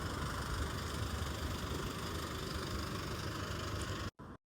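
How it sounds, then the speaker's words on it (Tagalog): Steady engine rumble of vehicles on a road beside a lake in Saudi Arabia, continuous and fairly close, cutting out abruptly near the end. "Mga sasakyan na daan."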